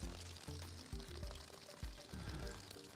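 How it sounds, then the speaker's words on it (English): Water pouring from a garden hose into a catchment can outdoors, a steady broadband rush running throughout with a voice talking over it. "There was still water coming in the hose"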